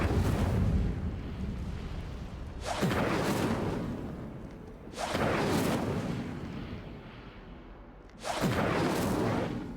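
Three Incendio fire spells cast in Hogwarts Legacy, each a loud whooshing burst of flame that flares up suddenly and then roars and fades over a couple of seconds, at a steady interval.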